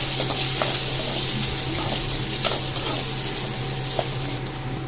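Cinnamon, cloves, cardamom and garlic fry in a pan for crab curry, making a steady, fairly loud sizzle with a few faint stirring clicks and no voices.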